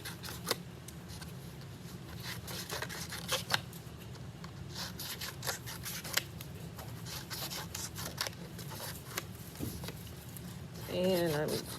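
Scissors snip through a paper plate in short crisp cuts, some cutting diagonally into smaller pieces, with scattered rustling of paper between the snips.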